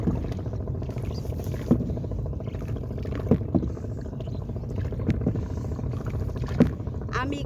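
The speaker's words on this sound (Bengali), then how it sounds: "আমি নদীতে নৌকা বাইতেছি" A boat being rowed on a river, with soft oar strokes landing every second or two against a steady wash of water and open-air background noise.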